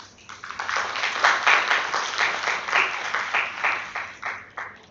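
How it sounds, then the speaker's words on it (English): An audience at a national mental health conference applauds, a moderately loud burst of clapping with a pulsing rhythm that swells and fades over a few seconds, with no talk over it. "I will again request everyone to give a big round of applause to ma'am and her team"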